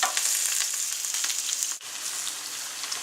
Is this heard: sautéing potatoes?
yes